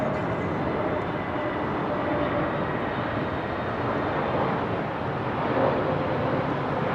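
An Airbus A320neo airliner roars steadily at Heathrow, a loud, sustained broadband jet rumble with a faint whine that holds throughout.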